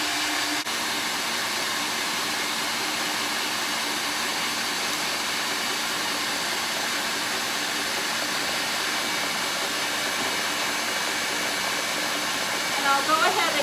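An electric mixer runs on high, whisking egg whites with sugar for angel food cake, a steady loud motor whir held close for the whole stretch without pause.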